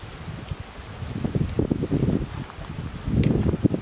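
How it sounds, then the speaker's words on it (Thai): Strong wind gusting through the leaves of a tall durian tree in an orchard, a low rushing rustle that swells in bursts and grows louder toward the end, no voices. "ลมก็แรง"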